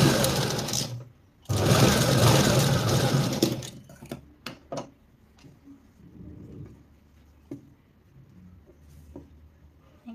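Sewing machine stitching a princess blouse, two loud bursts of rapid whirring separated by a short pause, then only scattered clicks and light handling sounds.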